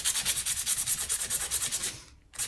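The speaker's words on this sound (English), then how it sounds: "I just take some sandpaper" Quick, even back-and-forth strokes of sandpaper scratch across a piece of cured acrylic resin, steady and close for about two seconds before a brief pause and a fresh stroke.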